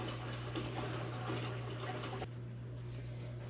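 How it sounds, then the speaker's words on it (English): Tap water runs steadily into a canner pot in a home kitchen, filling it with a couple of inches for canning beef stew; a continuous broad rushing hiss over a low hum, easing slightly near the end. "right now we are filling up the canner with 2 inches of water"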